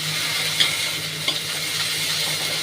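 Fried onion with ginger paste and a little salt, cooking as a bread chop filling and sizzling steadily in a pan, with a couple of light spatula taps while it is stirred.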